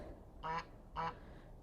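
Two short duck-like quacks, about half a second apart, over faint background noise, at a petting zoo with geese and ducks in Zakarpattia, Ukraine.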